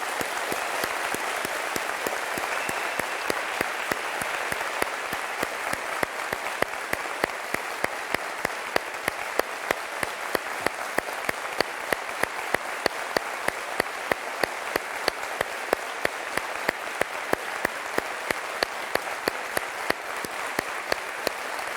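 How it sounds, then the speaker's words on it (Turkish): A television studio audience on Beyaz Show claps loudly in tribute to Özge Can. Thick, continuous applause carries without a break for over twenty seconds, with individual sharp claps standing out through the steady roar. "Büyük alkışı bu meleğe gönderiyoruz."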